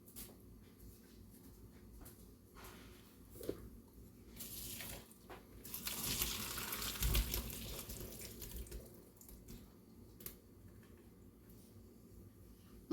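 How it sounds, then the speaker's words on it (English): Cooked apples being drained in a kitchen sink, water running and splashing for a stretch in the middle, rising and then tapering off, with quieter handling noises before and after. "So the apples are going to get drained and added right on in."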